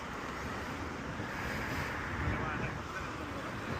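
Wind rushes steadily past the microphone during an early-morning ride, a continuous broadband roar filling the whole short stretch with no breaks.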